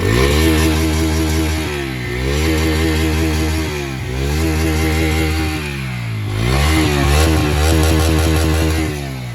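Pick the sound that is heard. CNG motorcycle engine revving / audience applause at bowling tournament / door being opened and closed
CNG motorcycle engine revving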